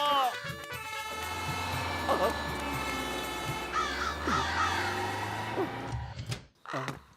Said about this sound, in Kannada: ಈ ಕಾಗೆಗಳನ್ನ ನನ್ ಕಾಪಾಡೋ